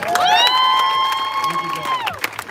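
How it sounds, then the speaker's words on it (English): Outdoor crowd at a pro-Armenian protest outside LA City Hall cheering and applauding after a speech, with a loud sustained whistle or siren-like tone and shouts over dense clapping. "Give her another round of applause."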